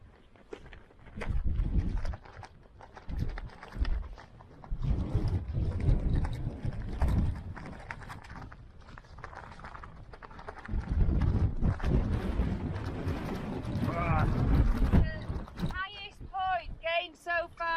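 A strong gale on the summit of Great Shunner Fell, at 716 metres on the Pennine Way, roars and buffets the microphone in heavy low gusts, with people talking over it and a brief whistling near the end.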